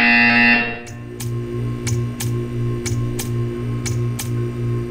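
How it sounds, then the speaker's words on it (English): Buzzer in the video game Portal 2: after a brief high tone at the start, a series of about eight short, evenly spaced buzzes pulse over a steady humming background. "You will hear a buzzer. When you hear the buzzer, stare at the art."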